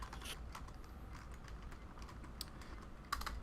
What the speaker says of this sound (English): Sorry, I am typing here to Raceboy,